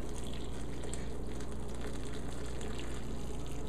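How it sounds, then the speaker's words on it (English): Boiling water is poured over dried mushrooms, a continuous close splashing and trickling stream of liquid that runs steadily at low level with no talking. "We're going to boil some boiling water,"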